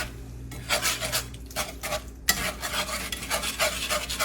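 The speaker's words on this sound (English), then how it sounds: "Stir that in." A utensil stirs water into thick, pasty breakfast gravy in a pan, making close, rhythmic scraping and rubbing strokes that repeat steadily throughout with no talking.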